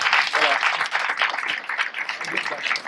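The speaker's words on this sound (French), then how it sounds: "Donc je vous demande de l'applaudir." Audience applause for the university library director of Bambey at a women's day flag-raising ceremony, steady broadband clapping from a crowd lasting the whole moment, with a voice or two mixed in.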